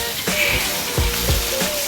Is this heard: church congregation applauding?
no